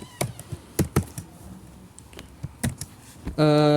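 Computer keyboard keys tapped while writing C++ code, a handful of irregular close clicks and clacks, ending in a short bright electronic tone.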